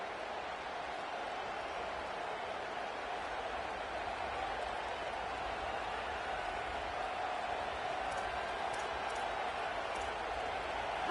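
Video game stadium crowd from College Football 27, a steady, dense roar filling the whole clip at constant loudness, with faint whistle-like tones near the end.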